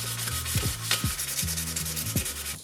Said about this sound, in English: wet sanding did prove to be very effective at removing all of that really nasty staining